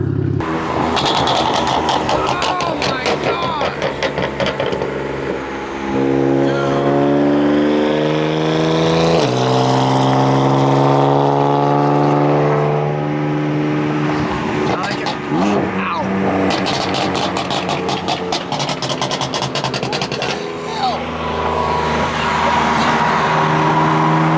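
BMW F-series engine with a BootMod3 tune revs hard over roughly 20 seconds, rising and falling harmonics with crackling exhaust burble pops, loud and close, with people talking over it.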